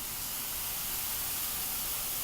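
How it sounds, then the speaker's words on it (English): Au jus hits a hot pan holding fillets and gives a steady, broad sizzling hiss that holds evenly for a couple of seconds without pause, close and fairly soft. "I'm going to take a little bit of au jus, and I'm going to put it on the pan."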